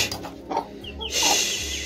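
An Aseel hen clucks in short bursts close by, with a higher squawk partway through and steady farmyard noise around it.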